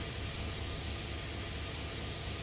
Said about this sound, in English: You don't let all the air blow out the back of the engine.